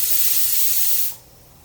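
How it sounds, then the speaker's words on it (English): A loud, steady hiss of escaping steam from a pressure canner that cuts off abruptly after about a second, leaving quiet background. "if you can hear my canner in the background"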